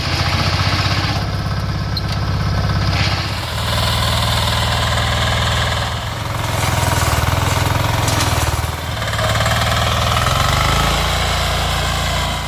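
A crab-like 4x4 power tiller with forward and reverse gearboxes runs steadily on a farm near Surat, Gujarat, its engine a loud continuous low throb with a rough, vibrating chug that shifts slightly in pitch, with no talking over it.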